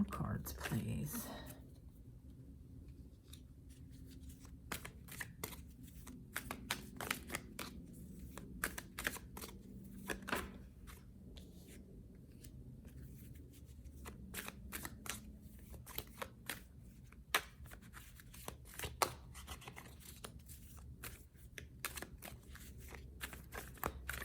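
Tarot cards being shuffled during a tarot reading, a long run of soft, quick riffling and slapping card sounds at close range, with brief clusters of snaps over a faint, quiet background.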